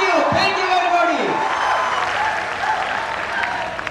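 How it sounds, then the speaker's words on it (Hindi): Audience at a cultural program claps in a dense round of applause, loud at first and gradually easing, while a voice speaks over the start. "और एक बार फिर से जोरदार तालियों से स्वागत करें"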